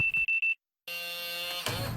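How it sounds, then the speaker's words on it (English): A home security alarm system being set, a quick run of four sharp, close electronic beeps followed after a short silence by a sustained, loud tonal chime with no voices. "I forgot to set the alarm."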